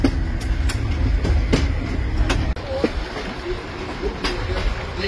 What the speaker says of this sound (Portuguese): Fica para trás o trem em direção a Santa Maria.